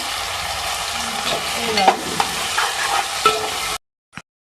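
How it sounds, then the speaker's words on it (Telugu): Fish sizzles steadily in hot oil with onion and green chillies, a close, continuous frying hiss with a few stirring scrapes, ending in sudden silence broken by one brief sound. "చేపలు అయితే మంచిగా ఫ్రై అయినాయి నూనెలు అయితే చూడండి"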